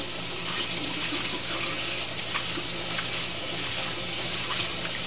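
Running tap water pours steadily into a sink while hands are washed, a continuous close hiss with faint splashing and no break.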